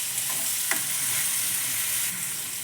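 Vegetables for a veg sandwich filling fry in a pan with a steady, close sizzle, broken by one brief stirring scrape early on; no voices.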